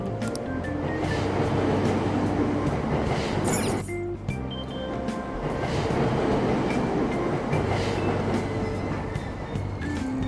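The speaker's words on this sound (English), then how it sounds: "Platform number 2, service to Asakusa is departing soon. Please watch your step. Train doors are now closing." In Persona 5 Royal, a subway train rumbles and clatters loudly along the rails, with a short break partway through before the steady rolling resumes.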